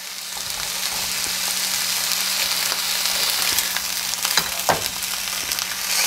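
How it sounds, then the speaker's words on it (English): Steady, close sizzling and crackling of sous vide meat searing in a hot pan, with a few louder pops and scrapes near the end. "It's sizzling nicely."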